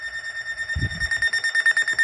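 A weather alert radio sounds a blizzard warning: a steady, piercing electronic tone pulses in a fast, even rhythm, close and loud, with a brief low thump partway through.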